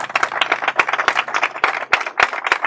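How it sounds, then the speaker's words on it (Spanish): Outdoor crowd applauding during a community cultural walk event, sharp close claps in an uneven rhythm over a softer bed of clapping, loud and nearby with no talk. "pido un fuerte aplauso para él"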